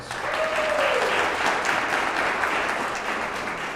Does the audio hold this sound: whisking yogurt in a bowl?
no